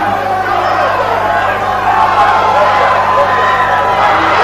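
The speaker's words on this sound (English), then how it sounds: "And you can hear that crowd. They're on his side." A karate tournament crowd cheers and shouts for the underdog in a large hall, a loud, sustained roar of voices with whoops throughout.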